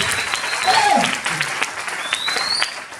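A church congregation applauds loudly for Jesus, a dense wash of clapping that fills the room, with a voice and some tonal sounds rising over it.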